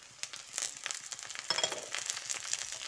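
Crushed ginger and chopped garlic are frying with browned onion in hot oil for a cabbage dish, giving a steady close sizzle broken by a few stirring crackles, with no voices.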